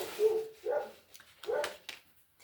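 Dogs barking outdoors: four or five fairly close yapping barks in a quick, uneven burst, with no other sounds around them.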